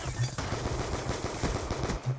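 Rapid gunfire from the video game Black Ops 2, a fast burst of repeated shots in steady rhythm lasting a couple of seconds, fairly quiet in the mix.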